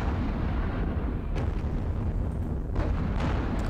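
Two light panzers fire in the Panzer Battles Kursk wargame, a dense continuous rumble of artillery-like blasts and explosions with a couple of sharper bursts, loud and unbroken, no speech.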